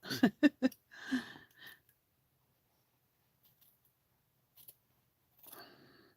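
Scissors snip through fabric for fussy cutting, a quick burst of three or four close crisp cuts followed by a slower snip, then near silence with faint handling sounds.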